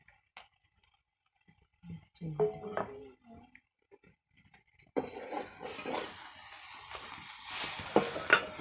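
Wild greens stirred in a pan, starting with quiet scattered clinks and scrapes, then a louder continuous sizzle with scraping stirs joined by brief speech.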